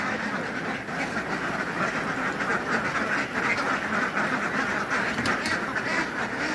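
Egg-laying ducks on a large farm flock of about two thousand birds quack in a dense, continuous chorus, loud and close, with overlapping calls and no clear pauses.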